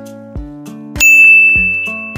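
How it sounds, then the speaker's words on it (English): Several metallic temple bell strikes ring out one after another, bright and close, with one loud clang left to hum and fade. "Temple bells gonged in melodic rhythms."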